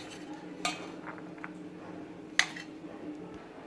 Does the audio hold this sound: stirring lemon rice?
yes